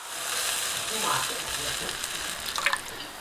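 Water poured into Thai curry paste frying in a pan for a jungle curry with fish, giving a steady rush and sizzle throughout, with a louder splashing burst near the end.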